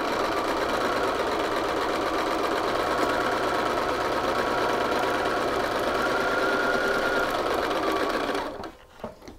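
A sewing machine runs continuously and loudly up close while stitching a shirt collar at a half-inch seam, its fast mechanical hum holding steady before stopping abruptly near the end.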